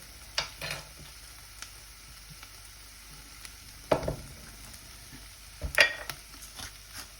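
Tomato puree fries in a pan for tomato soup: a faint low sizzle with a few sharp scrapes and clatters as it is stirred.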